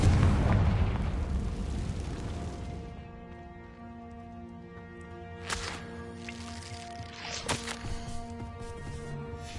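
A Confringo fire spell in Hogwarts Legacy bursts with a loud, deep blast that rumbles and fades over a few seconds, followed by quieter magical chimes and brief crackles.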